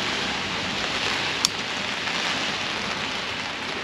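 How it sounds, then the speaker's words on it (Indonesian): Heavy, all-day rain pours outdoors in a dense, even hiss, with one brief sharp tap partway through and no voices. "hujan lebat seharian"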